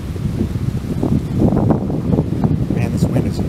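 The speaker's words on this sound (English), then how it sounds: "Man, this wind is vicious." Strong, gusty wind outdoors in an abandoned Appalachian coal-mining town, buffeting the microphone with a steady, loud low rumble.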